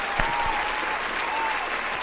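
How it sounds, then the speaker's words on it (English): A small group claps along during a music reaction session, a soft continuous patter of hands with a couple of sharper claps near the start, fairly quiet and fading into the room. "Definitely clap for that one."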